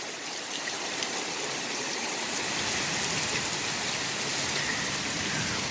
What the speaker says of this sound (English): Now they're getting rained on.